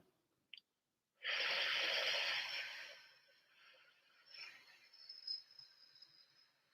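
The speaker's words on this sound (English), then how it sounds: "Take a deep breath in. Exhale." A deep breath drawn in and let out during a guided relaxation: a brief click, then a strong airy rush that slowly fades into a softer, uneven exhale, close and quiet, with no talking.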